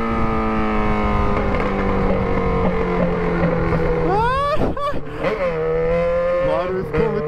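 Yamaha XJ6 motorcycle with a single 4-inch exhaust pipe, a steady loud engine drone while riding, then sharp rising revs and throttle blips near the end, with a voice faintly in the mix.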